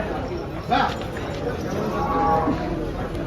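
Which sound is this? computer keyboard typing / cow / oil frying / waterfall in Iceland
cow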